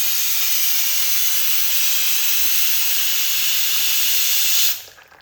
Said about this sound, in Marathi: चहा शिजलाय म्हणलं आधी तिघींना चहा घ्यावा.